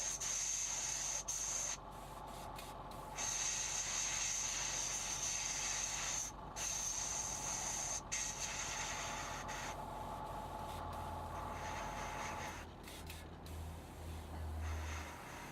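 An airbrush hisses steadily while spraying paint onto a 1/48 scale Airfix BAe Hawk T1 Red Arrows model kit, in bursts with brief gaps and a low compressor hum beneath.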